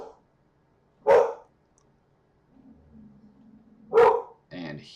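A dog barks twice, sharp and close, a few seconds apart, with quieter whining and a muffled voice in between.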